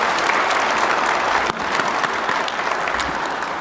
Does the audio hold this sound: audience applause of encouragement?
yes